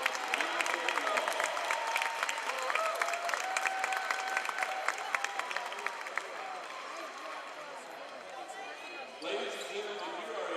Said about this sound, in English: please put your hands together and let's give these young ladies a well-deserved round of applause